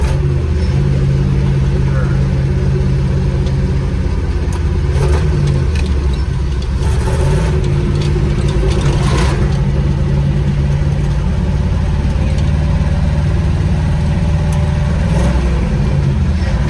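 A 1969 Chevy C50 grain truck with a five-speed and splitter drives along, its engine droning loud and steady with deep low rumble and slight rises in pitch, while people talk over the cab noise.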